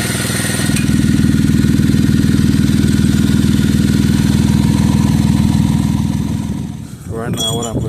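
Loud, steady exhaust drone from a running car engine with a broken exhaust weld, holding a rough idle for about seven seconds before cutting off, then a brief voice.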